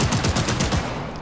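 Rapid automatic gunfire from the video game Cyberpunk 2077, a short dense burst of shots that cuts off after about a second.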